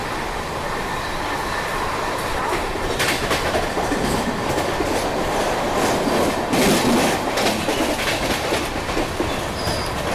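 Rajdhani Express rolling at speed into Mumbai, a loud continuous rumble of wheels on rail with rhythmic clickety-clack and occasional metallic squeal, heard from inside the train.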